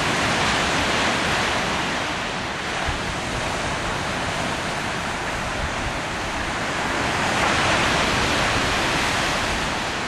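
Steady broadband roar of sea waves and surf, continuous and fairly loud, with no distinct breaks or voices.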